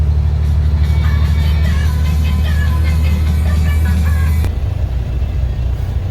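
Heavy truck engine rumbles steadily from inside the cab during a corn harvest haul, a loud low drone with faint interior rattles that drops slightly in level near the end.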